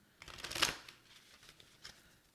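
Tarot cards are shuffled by hand in a few quick riffling bursts, the loudest flurry near the start and fainter shuffles after, close and alone.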